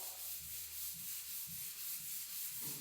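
Hand sanding of a drywall patch on a smooth ceiling with a sanding block, steady rhythmic back-and-forth rasping strokes, close and continuous with no talking.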